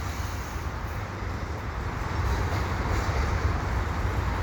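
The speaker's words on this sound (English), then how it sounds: "And I was waiting for this train to leave." A CP freight train hauled by an ex-CMQ AC4400CW locomotive leaving Dorval, a steady broadband rumble of rolling railcars that builds slightly louder partway through, with no talk.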